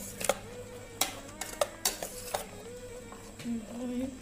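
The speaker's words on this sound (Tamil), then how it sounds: "சாஸ் ஆட் பண்ணதுக்கப்புறம் மிக்ஸ் பண்ணிக்கோங்க" A spoon scrapes and clinks around a bowl while bhel puri, a puffed-rice snack, is mixed with soy sauce and other sauces, several sharp knocks over a low background hum.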